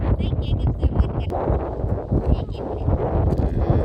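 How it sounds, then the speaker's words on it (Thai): Strong wind buffets a microphone outdoors near water, a constant rough roar with gusty bursts throughout, while people talk over it. "ลมแรงมากเลย"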